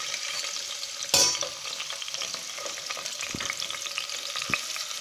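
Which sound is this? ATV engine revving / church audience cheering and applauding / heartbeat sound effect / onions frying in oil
onions frying in oil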